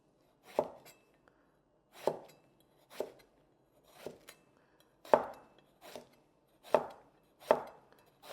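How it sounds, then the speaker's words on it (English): A knife cuts eggplant into wedges with a rolling cut, giving eight crisp, evenly spaced chops on a board, close and clear with quiet pauses between strokes. "And then you just cut it in a rolling action."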